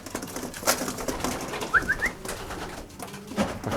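Pigeons coo in a loft during the moult season, a few soft rising calls close by with some rustling and a wing flutter around them, no talking.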